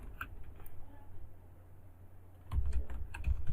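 Keys on a computer keyboard are tapped in Microsoft Word, soft and quiet at first, then a brief, busier burst of clicks near the end, with low talk in the background.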